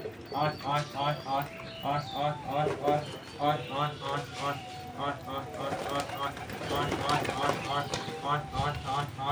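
Repeated soft, rhythmic cooing of a Madras pigeon close by, with people talking and background noise.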